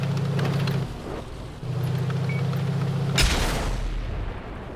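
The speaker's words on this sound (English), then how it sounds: "There's my first shot from the rear. Bounced off the E75." A tank cannon shot in World of Tanks fired from the rear at an E75 and bouncing off, heard as one sharp, loud broadband blast over a steady engine rumble.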